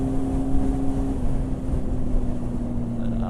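Steady roaring wind noise and a droning engine hum from a motorbike riding at 100 km/h, loud and continuous with no clear speech.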